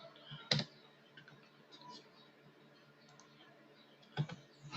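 Keys on a computer keyboard are tapped while a web address is typed, soft close clicks scattered across the quiet, with two sharper louder strikes near the start and the end.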